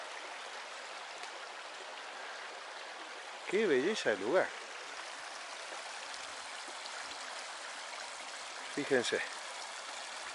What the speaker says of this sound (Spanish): Miren lo que es ese arroyo